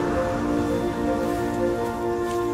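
Steady rain patters in a dense, even hiss throughout, with sustained tones running underneath it.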